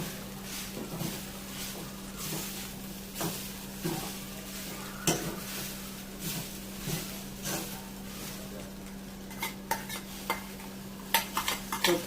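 Dry coconut roasting in a pan for a Malvani-style coconut and onion masala, with steady scraping and stirring strokes and soft sizzling under a low constant hum.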